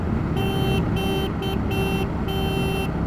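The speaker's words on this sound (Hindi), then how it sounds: "ऐसा लगता है स्कूटी का हॉर्न है।" A Triumph Scrambler 400X motorcycle horn gives a thin, scooter-like beep, sounded in about five short bursts of uneven length close by over steady background road noise.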